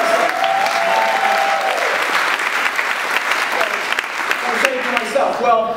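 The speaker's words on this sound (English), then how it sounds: "You can clap for that." Audience applause at a talk fills the room, steady and strong, with a speaker's voice briefly audible at the start and again near the end.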